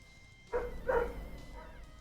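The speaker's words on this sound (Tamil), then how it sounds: "பக்கத்து வீட்டில் நாய் குலைச்சிக்கிட்டு இருக்குது." A dog next door gives two short, faint barks a moment apart, distant and muffled against a quiet indoor background.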